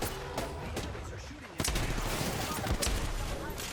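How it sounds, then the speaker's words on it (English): Rapid close-range gunfire trades in Apex Legends, dense crackling bursts overlapping loudly, with a sharp jump in intensity partway through. "so exchanged bullets"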